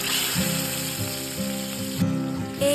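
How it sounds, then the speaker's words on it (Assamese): Fish sizzles steadily in hot oil in a pan, a loud continuous crackle with faint periodic scraping or stirring knocks and no talking. "এয়া প্ৰথমতে মই মাছখিনি ফ্ৰাই কৰি ল'লোঁ"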